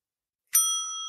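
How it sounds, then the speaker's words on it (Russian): A single bright notification bell dings once after silence, its clear metallic tone ringing on and slowly fading. "и нажмете на колокольчик"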